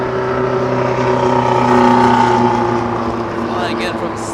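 A Qantas Boeing 787 Dreamliner, flight QF-17 from Sydney, rumbles and whines with a steady jet roar as it arrives at Los Angeles International Airport, loud and close throughout.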